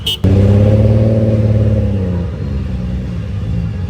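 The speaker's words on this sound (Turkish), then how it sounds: "Sesinden tanıdım dışarıda dedim dur bizim araba geldi." A Nissan Skyline R34 sports car engine roars loudly outside a shop right from the start and holds a steady, deep rumble, easing slightly toward the end, with no voices.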